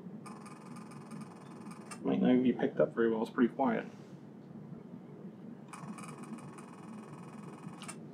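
Two buzzing, woodpecker-like bursts of rapid Nikon Z8/Z9 shutter sound in burst mode, Type D at 20 frames per second, one before and one after a short spoken remark, with quiet room tone between.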